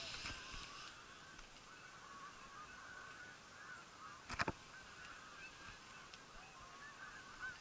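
A brief burst of loud honking calls, like ducks, stands out once over a steady outdoor background.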